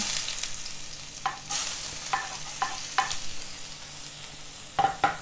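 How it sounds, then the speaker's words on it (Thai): Eggplant, blanched until soft, is stir-fried with garlic in a wok: a quiet background sizzle broken by a few sharp scrapes and clatters of the spatula, with no voices. "ผัดมะเขือยาวนะคะ"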